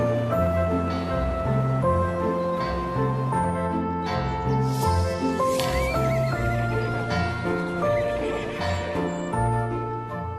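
Horses at a livestock fair whinny and neigh loudly and repeatedly, the calls overlapping with clip-clop of hooves and a busy outdoor bustle in the background.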